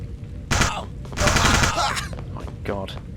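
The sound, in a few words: pistol gunfire in FPS Creator video game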